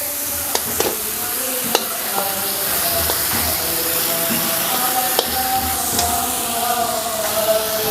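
Dal sizzles and fries steadily in a hot pan as a tomato goes in, with occasional stirring clicks and spoon taps over a continuous hiss, close and moderately loud, no talking.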